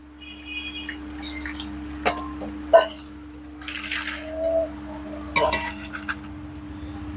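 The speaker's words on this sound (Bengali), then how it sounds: "এই দেখুন হালকা উষ্ণ গরম জল দিয়ে ধুয়ে নিচ্ছি" A nonstick pan is being rinsed under lukewarm water in a kitchen, with a few scattered clinks and dripping, splashing bursts standing out over a steady low hum.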